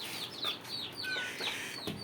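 Soft, high chirpy clucks and peeps from a hen, close by, repeating in short bursts over quiet background.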